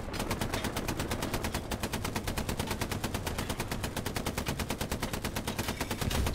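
Sustained rapid automatic gunfire in the World War II shooter Hell Let Loose, a fast, even stream of shots, loud and continuous for several seconds with no talking.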